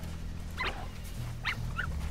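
A dog gives a few short, high yips and whimpery barks in quick succession, close by over a low background hum.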